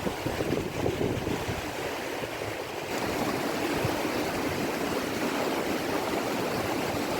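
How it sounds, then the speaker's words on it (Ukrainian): The fast-flowing mountain river Tysa rushes in a steady, loud broadband roar, a continuous close wash of turbulent water with no voices. "а тут сильний поток води."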